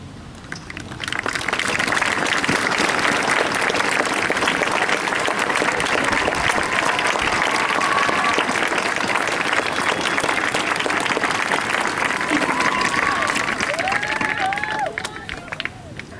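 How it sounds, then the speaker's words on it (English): A large audience at the 2013 Red Land High School graduation ceremony breaks into loud, sustained applause about a second in, holding steady as a dense wash of clapping before tapering near the end. "I invite you all to join the class in a round of applause"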